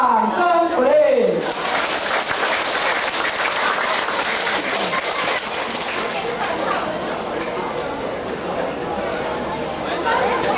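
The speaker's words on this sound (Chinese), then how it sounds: "掌声鼓励" An audience in a church hall gives sustained, dense applause after a Mother's Day choir performance, following a brief voice at the start, with chatter mixed into the clapping throughout.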